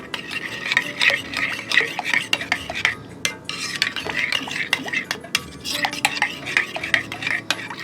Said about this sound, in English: So we'll mix the 2 sauces together